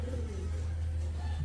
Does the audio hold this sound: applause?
no